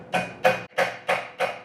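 A wedge is driven into a woodworking glue-up joint with a hammer, five evenly spaced sharp strikes ringing close and loud with no talk.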